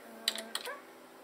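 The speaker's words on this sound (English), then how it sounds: "So we'll type that in." Quick bursts of typing on a computer keyboard, two short clusters of close, crisp key clicks in a quiet room.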